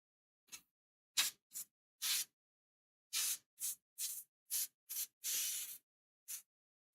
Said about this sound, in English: I'm going to load up the airbrush with a different turquoise, a little bit more darker